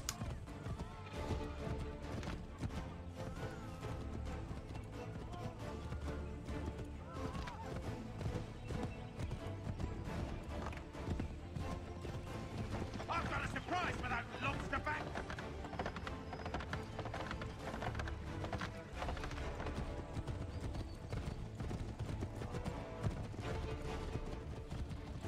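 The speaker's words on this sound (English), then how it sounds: "After all the guards are dead, just get back on your horse and" Horse galloping in Assassin's Creed III, with rapid, continuous clip-clopping hoofbeats running throughout under dense game background sound.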